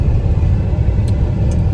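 A rented car driving along, its engine and road noise a steady low rumble close by, with no voices.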